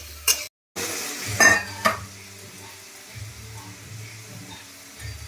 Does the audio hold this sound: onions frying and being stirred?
yes